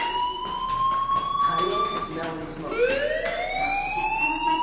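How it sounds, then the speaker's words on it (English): A fire alarm rings in the video game Life is Strange, a loud, steady electronic tone that swoops and repeats with a siren-like wail throughout. "Hey, do you hear that fire alarm?"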